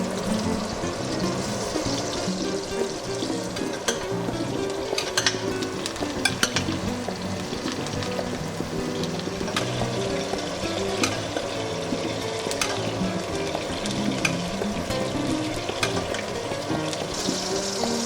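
A steak sears in a hot pan with a steady, loud sizzle and crackle that holds for the whole stretch, broken by small pops and occasional stirring or liquid sounds, with no talking.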